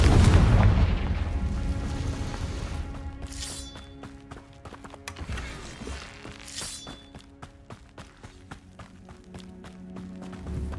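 Confringo spell blasts in the video game Hogwarts Legacy: a heavy boom opens, then sharper magical impacts and crackles ring out over sustained musical tones and light footsteps.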